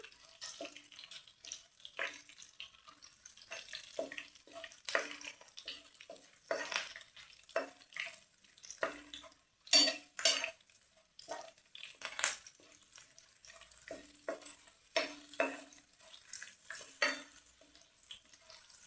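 Ingredients for chikkudukaya nilava fry in a pan in a quiet kitchen, with faint, sporadic crackles and spatters and occasional scraping stirs, and no speech.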